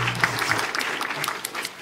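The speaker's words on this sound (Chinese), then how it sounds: "我们用热烈的掌声欢迎他。" Audience at a PyCon Taiwan 2019 talk applauds to welcome the next speaker, a short burst of dense clapping at moderate volume.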